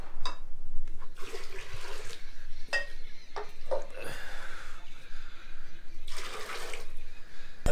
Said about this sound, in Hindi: ये हमारा गर्म पानी हो गया, इसको हम निकाल के इसमें ठंडा पानी डालेंगे